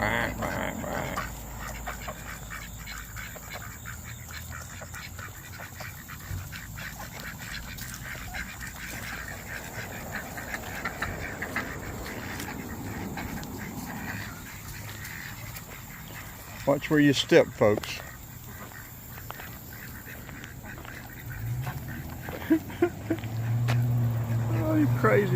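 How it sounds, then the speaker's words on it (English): Ducks and geese quacking and honking in a noisy outdoor crowd, with several louder calls bursting through near the end while people talk nearby, in Lindale, Georgia. "Oh, you crazy ducks."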